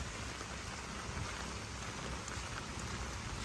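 Steady rain falls continuously in a hilly area, a dense, even hiss with no voices.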